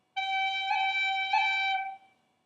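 A single sustained tin whistle or flute note in Irish traditional style, played on G and broken twice by quick pip ornaments from a briefly lifted finger, clear and close, then fading out with no talking.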